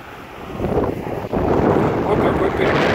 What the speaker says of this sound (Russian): Ветрено сегодня, но солнечно.